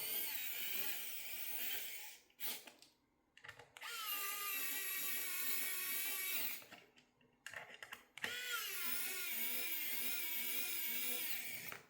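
Cordless electric screwdriver driving screws into a 1/18 scale RC trailer, three sustained high whining runs with brief gaps of clicks and handling between them, close by.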